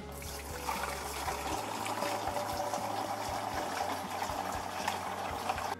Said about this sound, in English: So I like to tip the water in first